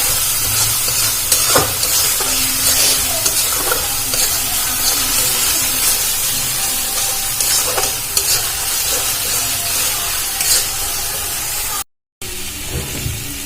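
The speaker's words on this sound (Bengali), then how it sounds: "দিয়ে আবার ভালো করে ভেজে নেব মশলাটা।" A spice paste with a little sugar fries in a pan for dhokar dalna, a loud continuous sizzle and hiss with repeated stirring scrapes, briefly cut by a moment of silence near the end.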